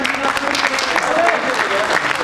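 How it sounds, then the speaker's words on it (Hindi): Audience clapping at a theatre festival performance in Bhopal, a short burst of moderately loud applause from a modest crowd, with a voice heard over it. "तालियां थोड़ी कम है।"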